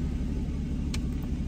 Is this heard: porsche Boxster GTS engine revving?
yes